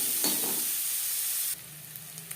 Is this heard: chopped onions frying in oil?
yes